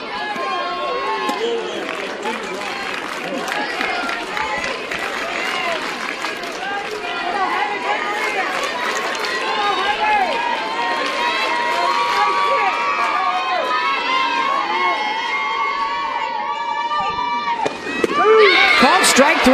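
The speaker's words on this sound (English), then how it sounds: "the Rhodes House crowd will get to do its thing once again" Dense crowd noise fills the softball stadium at Rhodes House during an NCAA Super Regional game between Oklahoma and Alabama, a steady roar of voices that swells louder near the end.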